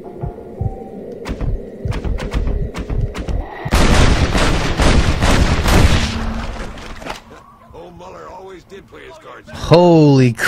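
Gunfire in the video game Red Dead Redemption, a dense burst of loud shots and booms in the middle, with a player talking over it and game sounds before and after.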